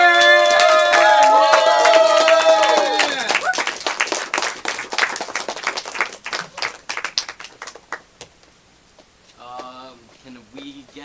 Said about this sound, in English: Keep your applause going for group number 2